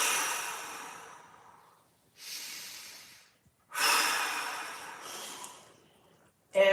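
Two big, deliberate breaths during an anchored bridge exercise for the low back, each a long noisy inhale followed by a slow exhale, close to the microphone, ending with a short sharp intake.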